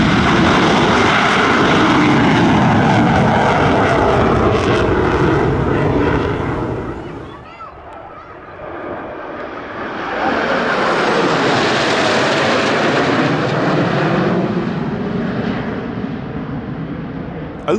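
Jets of the PLA Air Force August 1st aerobatic team roar past at an airshow in Langkawi. The loud engine noise swells, dips briefly in the middle, then surges again as another pass sweeps overhead with a rising whine.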